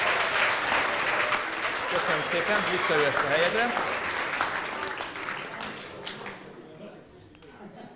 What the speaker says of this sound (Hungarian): Egy tapsot megérdemel a hölgy.